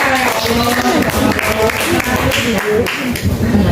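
Audience applause at a school event at a Jakarta junior high school, dense clapping running throughout with voices and crowd chatter mixed in underneath.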